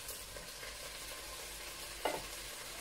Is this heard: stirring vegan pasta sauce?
yes